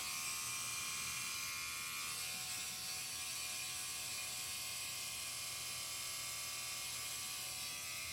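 A tattoo machine buzzes and ratchets steadily while a 45 curved magnum needle cartridge is pushed in and pulled out, with a continuous close mechanical whir throughout.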